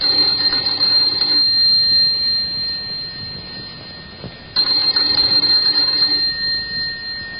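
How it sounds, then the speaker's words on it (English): An electronic doorbell rings in sustained bursts, pausing briefly midway and then resuming, bright and close, with no voices. "Let's begin this tale with the ringing of a doorbell"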